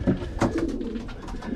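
A racing pigeon coos close by near its young in a loft, a few low, throaty burbling coos in quick succession, alone without talk.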